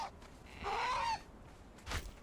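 Bird calls in a medieval video game: a faint cluck at the start, then a louder fowl-like honking call with a rising tone, a pause, and a short final squawk, mostly alone over quiet ambience.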